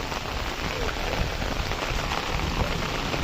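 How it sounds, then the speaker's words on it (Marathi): Steady first monsoon rain pattering on a surface in Konkan, a dense even hiss with scattered drop ticks throughout, fairly close and moderately loud, no voices. "असं पावसाचं वातावरण तयार होतं आणि पाऊस देखील पडतो"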